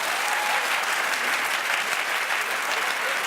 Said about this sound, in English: Clap if you think it'd be Nicole Kidman